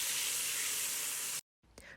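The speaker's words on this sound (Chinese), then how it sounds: "随后倒入一小碗热水煮制" Hot water is poured into a pan of frying yellow-catfish with garlic green chili sauce, giving a loud sustained sizzling hiss that cuts off abruptly, followed by faint clatter.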